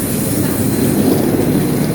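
A train pulls out of Plymouth station with a steady, loud low rumble of wheels and rolling stock, close by and continuous, with no voices over it.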